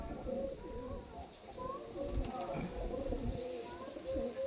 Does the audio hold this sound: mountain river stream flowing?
no